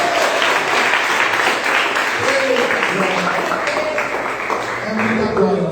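Church congregation applauding at a Wednesday evening worship service, a dense steady wash of clapping with voices and shouts mixed in throughout.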